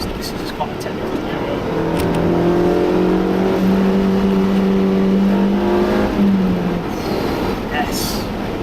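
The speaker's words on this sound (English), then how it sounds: "Second gear, this turning just back to the down. Yes. And then revving this engine out" A car engine revs out in second gear on a winding moorland road at Strines Pass, its steady note rising over several seconds and then dropping away, heard from inside the cabin over a constant low road rumble.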